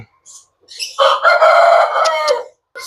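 A heavy double-bodied Aseel rooster crows once, loud and close, in a single long call that lasts about a second and a half, with a few brief clucks just before it.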